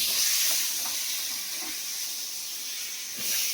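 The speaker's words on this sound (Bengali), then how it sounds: "এবারে লাউগুলো দিয়ে দেবো।" Bottle gourd goes into hot oil tempered with bay leaf, five-spice and green chilli, giving a loud, close, hissing sizzle that holds steady and swells slightly near the end.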